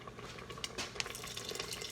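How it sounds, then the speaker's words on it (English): Water runs steadily from a tap into a pot of Italian leek soup, a soft continuous splashing with light drips, fairly quiet and with no talk over it. "I'm going to put a little bit more water in that one."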